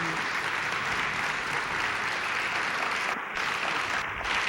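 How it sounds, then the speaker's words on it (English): A theater audience at Aaron Davis Hall claps in a steady, dense wash of applause that holds at an even level for several seconds, with no speech over it. "then you can applaud her again"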